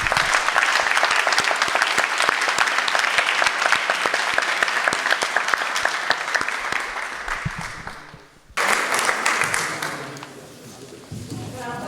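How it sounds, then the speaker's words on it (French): Audience members at a discussion on Reclus and the Americas applaud the guests with thick, loud clapping. It drops out briefly, then returns more thinly, and a voice can be heard toward the end. "il est bon de les applaudir."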